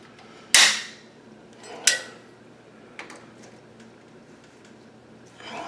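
Tight sheet metal being pulled out of a mirror closet door roller, giving two sharp metallic snaps close together, then a softer click and faint scraping.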